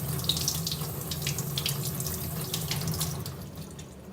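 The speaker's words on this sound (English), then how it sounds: "now we want to wet it until we see the image come through and there's no dry spots" Running water pours steadily onto heat press transfer paper to wet it, a continuous close splashing rush like a faucet filling a sink, no talk.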